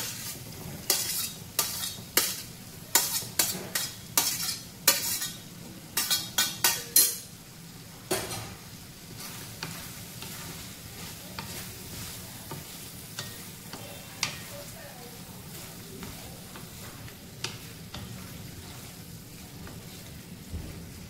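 Capsicum stirred and fried in a pan with cooked pasta for butter cheese pasta, a home-kitchen sizzle under repeated sharp scraping and clinking stirs, busy at first, then steadier frying with occasional taps.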